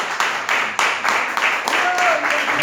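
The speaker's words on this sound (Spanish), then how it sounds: "Dale un aplauso al Señor" Congregation clapping in a church service, a burst of rhythmic applause filling the room with a voice calling out over it.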